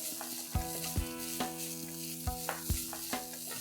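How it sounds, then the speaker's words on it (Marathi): Grated fresh coconut and sesame seeds sautéed in a pan, with a steady close sizzle broken by several sharp spatula scrapes and stirring knocks at irregular intervals. "1 वाटी ओलं खोबरं किसलेलं 2 मिनिटांसाठी परतून घेऊया"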